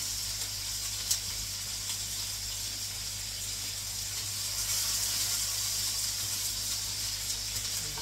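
Carrot frying in hot oil at a home stove while cooking dinner, a steady close sizzle and hiss that holds through the whole stretch with small pops and no talk.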